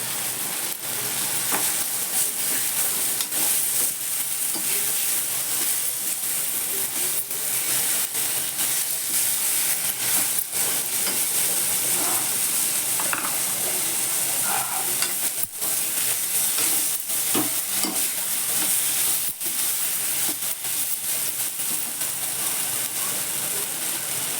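A ground paste of garlic, coconut, coriander and ginger fries in hot oil for a guar and potato bhaji. A loud, unbroken sizzle lasts throughout, broken by occasional scraping and stirring clatter.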